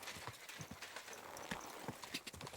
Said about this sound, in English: Horse, come here, quickly.